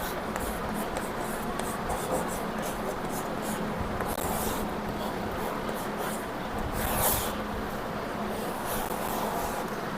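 A pen scratching and scraping steadily across paper, close and continuous, with brief strokes and rubbing textures throughout and no clear talk.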